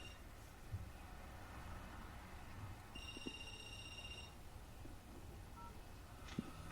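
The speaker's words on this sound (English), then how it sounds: "Phone's ringing." Telephone ringing in a horror film scene: a steady electronic ring tone rises above a noisy, rumbling background for about a second and a half, with no voices.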